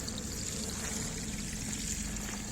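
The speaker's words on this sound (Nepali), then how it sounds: "म अब पानी हालिरहेको छु गाइज" Irrigation water poured onto vegetable plants on a farm, a steady close wash of flowing, splashing water running continuously without pause.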